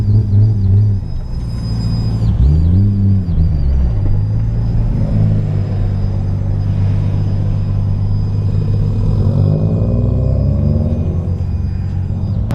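Toyota Supra with a 2JZ engine and HKS muffler cruising on the road, a loud, steady low rumble from inside the car with a few rising and falling swells in engine tone.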